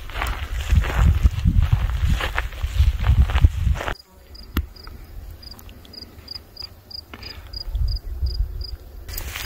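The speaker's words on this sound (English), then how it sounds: "All this little sound, that's all the grasshoppers that are chomping away." Grasshoppers in dry grass at an abandoned ghost town in Alberta, with footsteps crunching and rustling through the grass first, then quiet ticking and faint regular clicks of insects.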